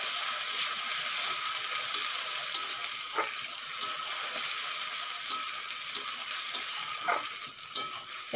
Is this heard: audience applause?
no